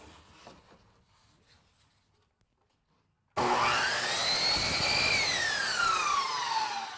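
A saw cuts a uDecor chair rail at an 11 1/4 degree bevel, starting abruptly after near-silence with a loud, sustained whining bite through the molding and a rising, then falling pitch until the cut ends.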